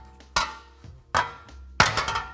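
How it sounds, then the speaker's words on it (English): Three sharp, ringing hammer strikes on a metal Porsche inner fender, each a loud clang with a short decay, spaced unevenly over a couple of seconds with no talking. "Sometimes you just gotta start smacking it with a hammer."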